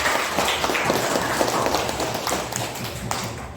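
A classroom of students claps for a classmate during a lesson, a dense steady patter of many hands lasting throughout, fairly close and moderately loud with no talking over it.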